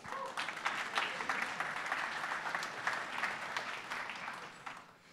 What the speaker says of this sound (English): If we could give a quick round of applause to our keynote speaker for the day.